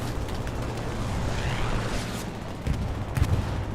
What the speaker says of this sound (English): Persistent Strike called an artillery battery.